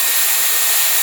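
A Dyson Airwrap Styler, Copper Edition, blows a steady stream of air on its cool shot setting, a loud, close, uniform hiss and whoosh with no change in level and no talking.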